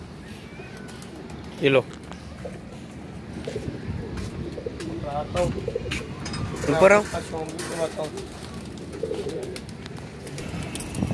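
Pigeons, including one dyed green, cooing softly near a rooftop net trap: low, throaty coos repeating in short bursts, fairly close, alongside someone talking and a few clinks and wing flutters.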